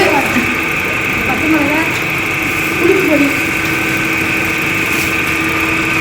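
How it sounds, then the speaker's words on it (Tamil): An appalam dough-sheeting machine in a Kallidaikurichi papad workshop runs with a steady, continuous mechanical hum and whine, fairly close and constant throughout, with faint voices and small clatters under the drone. "இப்பெல்லாம் மிஷின் வச்சு நல்லா நைஸாக பண்ணி இந்த ப்ராசஸ் பாருங்கள் எப்படி ஷீட்ஸாக வருது பாருங்கள்"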